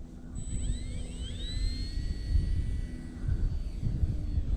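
A Ranger 1220mm RC plane on landing approach with the throttle backed off, a thin, high motor whine with pitch sweeps as it turns, heard some distance away over heavy cold wind rumble.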